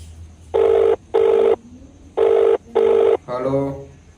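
A telephone rings during a call with two pairs of evenly spaced electronic ring bursts, loud and close. A voice comes in right after the last ring.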